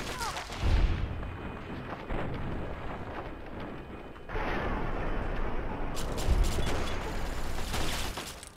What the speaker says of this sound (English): I think that justifies using a nuka grenade